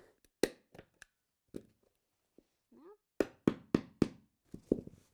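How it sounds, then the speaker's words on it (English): A staple gun fires into material stretched over a DIY TV frame, giving sharp, close clacks: scattered single shots, then a quick run of four near the end, with brief quiet voice sounds between them. "I will attach it with this staple gun"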